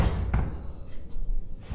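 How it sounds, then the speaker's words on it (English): A door slams shut with a single heavy thud near the start, followed by muffled knocks and bumps at moderate volume in an enclosed space. "Guys, you shut the door!"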